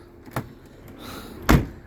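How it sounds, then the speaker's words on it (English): The security lock on the habitation door of a 2018 Autotrail Imala 734 motorhome gives a light click, then a heavier clunk a moment later as it is pulled down, both close and sharp. "On the habitation door, the previous customers have had a security lock, so you pull that down."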